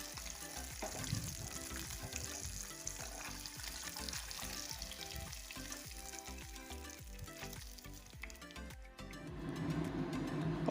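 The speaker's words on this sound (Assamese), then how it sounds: "সেইখিনি তেলতে যিখিনি মই বিলাহী আৰু মগজৰ পেষ্ট বনাইছিলোঁ সেয়া দি দিলোঁ আৰু অলপ সময় ভাজিম" Tomato and melon seed paste frying in hot oil for a homemade matar paneer, giving a steady, close crackling sizzle with occasional stirring scrapes, growing a little louder near the end.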